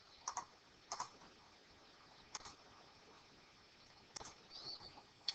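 Buttons on a TI graphing calculator are pressed in quiet, faint clicks, a few separate taps spread across a hushed background.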